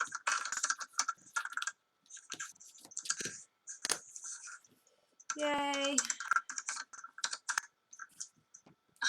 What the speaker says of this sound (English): But you can hear me typing, huh?